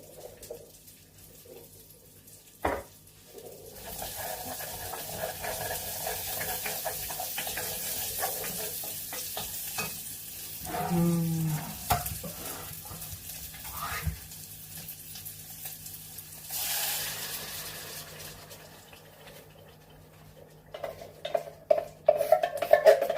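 Bacon crisps in a pan with basil, a soft sizzle with stirring and occasional scraping, interrupted midway by running water and a few clanks, fairly close and without voices.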